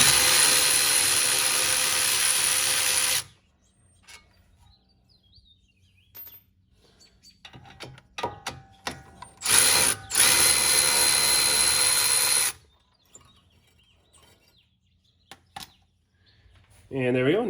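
Power tool loosening the caliper bracket bolts on a Chevrolet Malibu's brakes, in loud broadband bursts of several seconds separated by quiet gaps with faint clinks and short taps.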